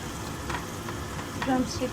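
Drumstick pieces dropped into a pan of cooked tomatoes for a tamarind curry, giving a soft, low sizzle with a few faint stirring clinks, quiet and close.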